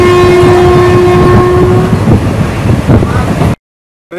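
Karaikal Express passenger train arriving at Vadalur station, loud and close, with a sustained horn tone over rumbling wheels and rail noise that cuts off abruptly at the end.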